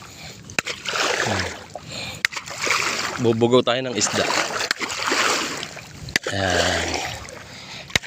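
Splashing and sloshing as people wade knee-deep through water, slapping the surface to drive fish, known locally as pagtitibog, with bursts of splashes under close speech.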